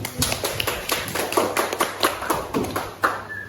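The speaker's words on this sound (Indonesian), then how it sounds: "Kita berikan tepuk tangan dulu" A classroom group claps for a student group after their presentation, giving a brief burst of close, uneven hand claps that taper off.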